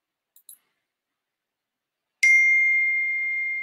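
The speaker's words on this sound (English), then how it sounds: "my phone does very strange sounds" A mobile phone gives a few faint clicks, then one bright, sharp ding that rings on and slowly fades, close and alone in silence.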